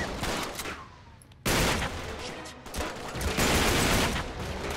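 Gunfire in Uncharted 3: Drake's Deception, a dense run of shots and bursts that jumps suddenly louder partway through and stays heavy and close to the end, with no talk.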